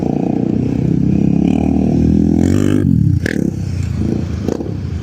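Electric adventure motorcycle ridden on rough ground, a steady whirring drone with rattling suspension clatter and a brief scraping knock near the middle, loud and close throughout.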